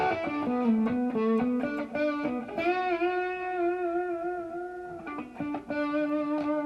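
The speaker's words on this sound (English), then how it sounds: "got a little reverb and a delay. Now you got effects on this amp." Electric guitar chords and notes ring out with a reverb tail and echoing repeats, one chord left to sustain and fade before playing resumes.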